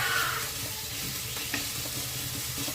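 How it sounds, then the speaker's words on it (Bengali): Ginger and garlic fry in about half a spoon of mustard oil for a Bengali-style spiced brinjal dish, giving a close, steady sizzle with faint stirring scrapes and no talk. "দিয়ে আদা রসুনটা ভালোভাবে ভেজে নিচ্ছি, নাহলে গন্ধ ছাড়বে কাঁচা আদা রসুনের।"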